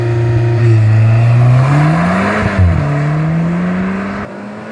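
Car launched with launch control in a 0-100 run: a loud, steady engine drone climbing in pitch through a couple of gear changes, heard close with no talking.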